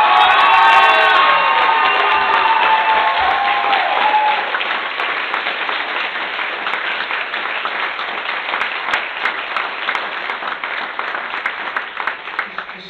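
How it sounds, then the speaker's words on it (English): Audience at a comedy-for-the-cure charity show breaking into loud applause with cheering and whoops, strongest in the first four seconds, then settling into steady clapping from a large room crowd. "I want everybody in this place to give them a 10 applause."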